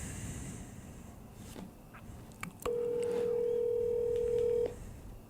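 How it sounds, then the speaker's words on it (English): A telephone dialing for a call, with a brief keypad tone and then a steady, loud tone holding for about two seconds before it cuts off, over quiet background hiss. "We're pushing the call button right now."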